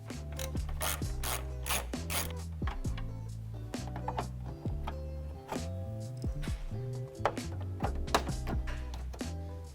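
A ratchet wrench clicks repeatedly as a 10mm screw is removed from the grille center post of a Toyota 4Runner (2014–2020), close rhythmic ratcheting in bursts with brief pauses, no talking.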